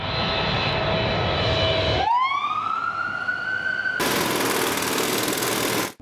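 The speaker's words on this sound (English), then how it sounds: "like a plane taking off" A loud jet roar swells and rises in pitch into a piercing whine, then gives way to a wide blast of engine noise, close and continuous.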